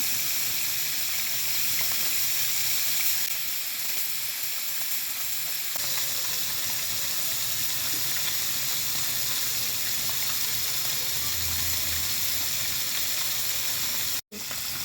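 Frozen puti fish fries in a pan of oil with a steady, loud sizzle that runs unbroken nearly the whole time, cut off by a brief gap just before the end.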